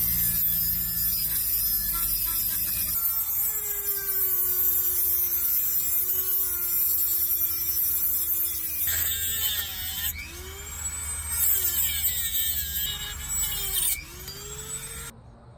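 A power tool cuts down a steel bolt for a homemade flagpole, a steady droning whine that holds for several seconds, then wavers and shifts pitch as the blade bites, with no talking.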